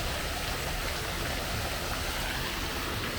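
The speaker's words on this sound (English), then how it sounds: "It's got the little mushroom waterfall right there." Water from a small mushroom-shaped fountain splashes steadily into a shallow kids' swimming pool, a constant dense hiss that stays even and close throughout.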